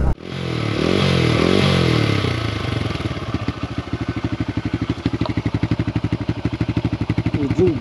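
A TVS Raider 125cc motorcycle revs up with a couple of rising throttle blips, then settles into a steady, rhythmic low exhaust thump heard up close.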